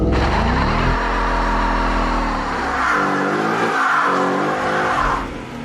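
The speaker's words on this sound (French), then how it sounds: "elle a même un assistant pour burner afin de chauffer les pneus arrière avant la course." A Ford Mustang Fastback V8 GT does a burnout to heat its rear tyres, the V8 roaring loud and steady close by while the spinning tyres squeal and hiss over it, rising and wavering midway before easing off at the end.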